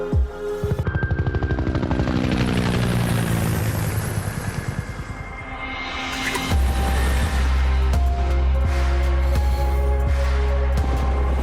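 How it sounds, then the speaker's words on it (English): A Robinson R88 helicopter is heard with a loud, rapid rotor chop and a turbine whine that sweeps in pitch before settling into a steady, powerful thrum. "It's a helicopter that's clearly designed to work hard, carry a heavy load"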